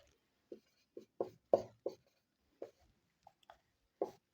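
A pen writing out a maths solution on paper, with a series of short, separate scratchy strokes at irregular intervals, close and fairly quiet with silence between them and no talk.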